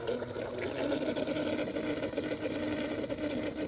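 A nitro engine on an RC boat runs at a steady high-pitched buzzing drone, continuous and fairly close, with a light voice faintly beneath it.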